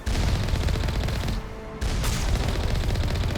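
Rapid turret gunfire in the 2007 PC game Mass Effect, a dense loud stream of shots that cuts out briefly midway and then resumes at full intensity.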